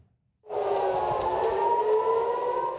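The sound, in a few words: air raid sirens sounding across Israel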